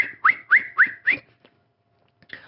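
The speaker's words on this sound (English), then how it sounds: "the kennel-master, now whistling from inside the gate" A kennel-master whistles from inside a gate to call hounds: four short rising whistles in quick succession, fairly close and clear, then a pause and the start of another whistle.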